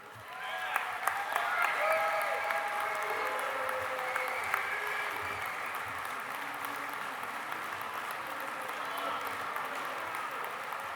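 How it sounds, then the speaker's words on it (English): An audience at a business session applauds the 2023 National Recruiter of the Year, steady moderate clapping with a few sharper claps early, fairly distant in a large room with a faint tone underneath. "Please join me in giving a huge round of applause"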